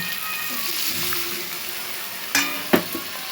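White and black mustard paste frying in a pan hisses softly, then a splash of water hits it with two sharp sizzling bursts, close by with no talk.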